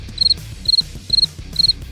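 Cricket chirps from a stream redeem in a car mechanic sim game, four evenly spaced bursts of rapid high trills repeating about every half second over a low hum of background game music.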